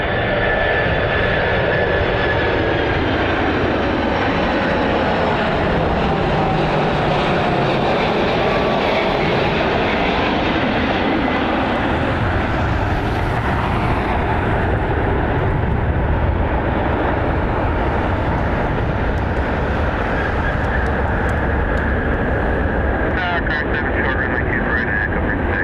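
An Atlas Air Boeing 747 charter roars steadily through its landing on runway 24 at Cleveland Hopkins Airport, a loud, continuous wash of jet engine noise with a whining tone and sustained rumble throughout.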